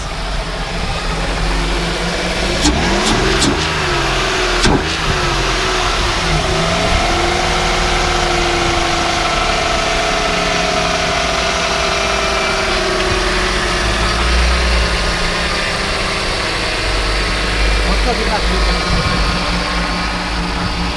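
A cold BMW E36 drift car engine runs steadily, rising into rougher revving bursts early on before settling into a loud, continuous idle with an uneven low rumble, with no voices.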